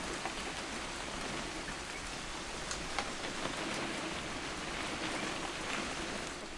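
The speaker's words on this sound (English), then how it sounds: "It's gonna rain the whole weekend, isn't it?" Steady rain hisses evenly throughout in the video game What Remains of Edith Finch, with scattered drops pattering on a surface; no voices, just a constant wash of rainfall.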